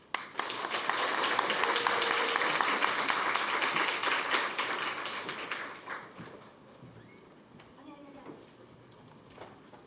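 An academic conference audience gives sustained applause to welcome a speaker, a dense clatter of clapping that holds steady, then thins and fades, with a voice starting to talk as it dies away.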